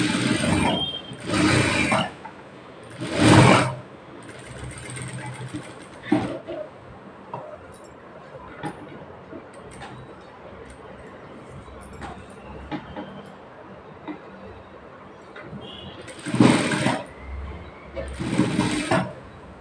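A sewing machine stitches piping on a high neck blouse in several short bursts of rapid close whirring, separated by pauses in which someone talks.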